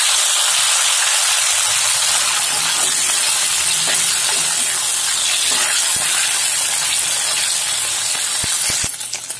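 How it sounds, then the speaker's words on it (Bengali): Paneer frying in hot oil gives a steady, loud sizzle and hiss that runs the whole time, with a few sharper crackles toward the end. "একই রকম ভাবে এই তেলেই আমি পনিরটাও একটু ফ্রাই করে নেব।"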